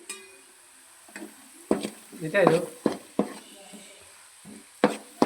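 A spoon stirs a spiced curry mixture simmering in a pan, giving intermittent scraping strokes and clinks against the metal over a faint bubbling sizzle.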